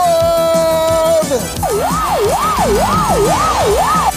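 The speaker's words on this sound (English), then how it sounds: "And there goes a police car." A police car siren sounds up close and loud, first as a steady held tone, then as a smooth rising-and-falling wail that repeats about five times over heavy traffic rumble.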